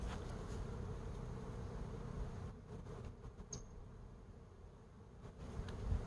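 A tree full of bees working in the morning gives off a steady low hum, faint and continuous from below, with no speech over it.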